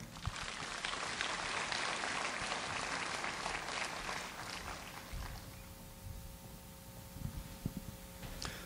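Audience applause welcoming the mayor of Asan City at a teachers' summer workshop, a fairly faint wash of clapping for about five seconds that fades out, leaving room noise and a few scattered knocks.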